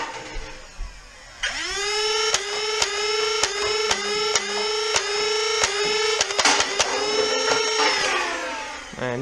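A Nerf Strife flywheel blaster spins up with a loud, sustained motor whine while darts fire at cups, giving a string of sharp clicks and snaps at uneven intervals before the motor winds down.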